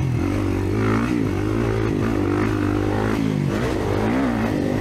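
A 2024 Kawasaki KX450 dirt bike races in a 50-plus class motocross round, its engine a loud, continuous close-up drone that surges and dips in pitch as the throttle is worked.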